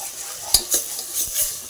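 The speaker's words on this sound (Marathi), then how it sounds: "हे असं चांगलं परतून घेऊ." Bajra mixture being stir-fried in a pressure cooker, a spoon scraping and stirring with several distinct strokes over a faint sizzle, close and moderately loud, with no talking.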